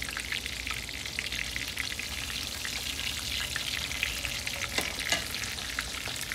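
Parmesan-crusted chicken breasts fry in a pan with a steady, close, dense sizzle and crackle that runs throughout, with a few sharper pops near the end and no talking.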